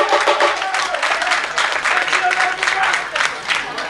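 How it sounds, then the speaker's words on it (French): Crowd applause for a visiting mayor at a public event in Thiès, Senegal: dense, sustained clapping that stays loud throughout. "Et je vous demande vraiment de l'applaudir"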